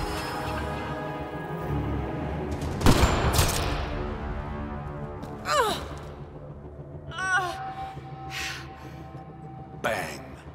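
Single sharp, loud sniper rifle shot from Mass Effect Andromeda cracks out near the start, followed by a ringing tail, while voices and a backdrop of game music continue around it.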